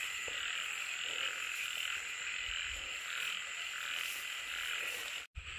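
Field frogs croak steadily in a rural paddy-side setting during frog fishing, a dense, continuous chorus with a high insect-like whine over it, loud and close, ending in a brief dropout.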